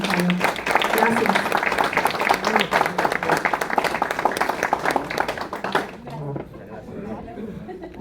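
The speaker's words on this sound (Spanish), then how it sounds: "Les pido un aplauso por favor para el autor y para los presentadores" Audience applause for the author and presenters at a book launch for a Mexican criminal law book, dense clapping mixed with chatter and light laughter, fading out near the end as a voice speaks.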